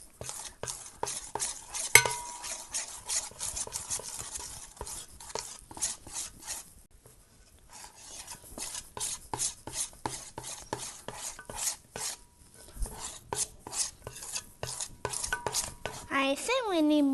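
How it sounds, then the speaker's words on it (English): Magic slime sand being mixed with powder, a run of scraping, gritty stirring strokes in quick rhythm, close and crisp, broken by a brief quiet pause before stirring resumes. "And now we mix again."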